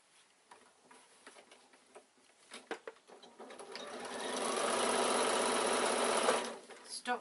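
A sewing machine stitches a quilted evening bag, first in short stop-start bursts and taps, then in one long steady run of rapid close stitching before stopping.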